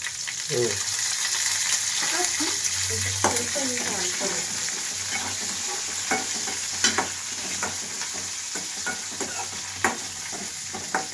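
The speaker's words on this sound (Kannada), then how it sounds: "ಈ ಎಣ್ಣೆ ಕರಿಬೇಕು, ಮೆಣಸಿನ್ಕಾಯಿ ಬ್ರೌನ್ ಆಗ್ಬೇಕು" Chillies and curry leaves frying in hot oil in a home kitchen, a steady sizzle with intermittent stirring scrapes and clicks of a utensil against the pan.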